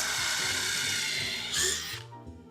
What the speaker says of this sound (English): Gotta be careful about drilling the knots.